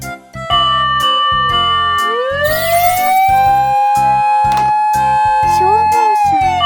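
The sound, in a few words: fire engine siren in a children's cartoon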